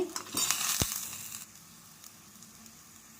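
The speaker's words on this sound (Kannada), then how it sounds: "ಮಸಾಲೆ ಉರಿತಾ ಇದ್ದೇನೆ" Spices sizzle and crackle in hot oil in a pan, a tempering of turmeric powder, asafoetida, curry leaves, coriander leaves, tamarind juice and garlic; a brief loud burst of frying then a faint continuing hiss.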